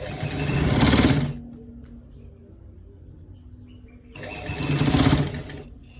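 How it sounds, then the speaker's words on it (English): Sewing machine stitching a V-neck inner pocket, whirring loudly in two close bursts separated by a quieter pause of about three seconds. "we are stitching it"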